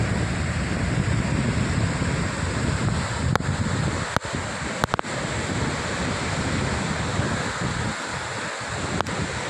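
Water pours through the open gates of the Jurala dam, a continuous heavy rushing roar with wind noise on the microphone and a few sharp handling clicks.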